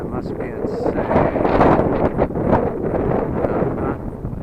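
Strong gusting wind roars across the microphone outdoors while a small brushless Eachine Mini P47 Bubble Top RC plane flies in high winds, a loud continuous buffeting rumble with surging gusts.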